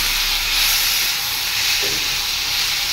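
Steady sizzling hiss of tomatoes added to cooked spices in a hot pan for a Pahadi Gethi sabji, continuous and close throughout with no talking.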